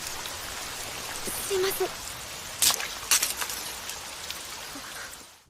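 Steady rain falling in an anime scene, a broad continuous hiss throughout with a few brief louder splashes and a short spoken line in Japanese partway through.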